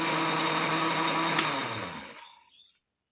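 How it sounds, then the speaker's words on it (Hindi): A kitchen blender grinds mint chutney ingredients, among them ginger paste, lemon juice and yogurt, in a loud steady whir that holds for about two seconds before it winds down and stops. "अब हम सबको इसमें ग्राइंड करेंगे।"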